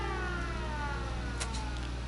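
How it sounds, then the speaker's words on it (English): A camp siren in the video game Fallout 76 on PlayStation 4 wails steadily and loudly alongside a low engine-like hum, the tone holding constant for the whole stretch with no voices over it. "guess we can shut that siren off now"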